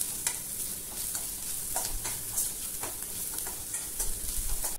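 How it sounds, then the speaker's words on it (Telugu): Onions fry with turmeric in a pan while a spoon stirs through them, with scraping strokes over a continuous close sizzle and light crackle and no voices. "పసుపు వేసుకున్న తర్వాత ఒకసారి అంతా కలుపుతూ వేసుకుందాం."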